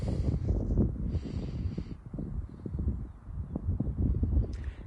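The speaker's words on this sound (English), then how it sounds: "A breezy day" Wind blowing on a breezy day in open country, a steady buffeting rumble that swells and eases in gusts, fairly close and continuous, with no voices.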